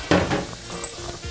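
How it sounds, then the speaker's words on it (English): Close, crackling sizzle of garlic frying in hot oil, with a light clink of a utensil stirring the pan. "There, that's the sizzle you want to hear."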